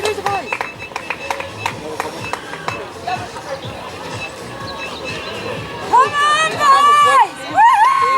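Spectators at a marathon finish clapping and chattering along the barriers, with rhythmic claps early on and rising whoops and shouts near the end, mixed with nearby talk.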